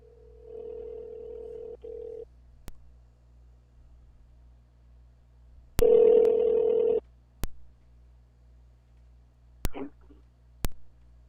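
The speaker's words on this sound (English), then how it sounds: "So let me dial her up." A telephone call being placed: a dial tone, a short run of keypad tones, then ringback pulses with faint clicks, heard alone and close.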